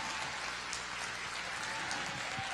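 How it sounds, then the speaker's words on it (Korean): Audience applause at an outdoor marching band festival in Yeosu, South Korea, a steady dense clapping that holds at full strength from start to finish with no voices over it. "박수 부탁드리겠습니다."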